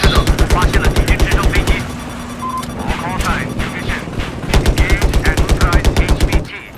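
Rapid automatic gunfire from the Battlefield video game on the Golmud Railway map rattles in loud, close bursts at the start and again near the end, with players talking over a quieter stretch in between.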